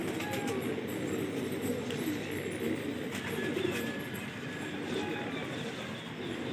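Pigeons cooing amid a pigeon fight, their soft calls blending into a steady wash of outdoor ambience with a continuous low rumble throughout.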